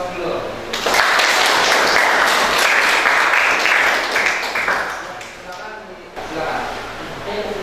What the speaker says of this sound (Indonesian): Silakan kita berikan aplaus dulu